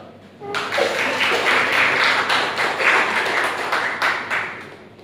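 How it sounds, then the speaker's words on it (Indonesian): Applause from a class audience after a student's Pancasila education presentation, a dense burst of clapping that starts abruptly, holds steady for several seconds and then thins out, with faint voices mixed in. "Beri tepuk tangan dulu dong."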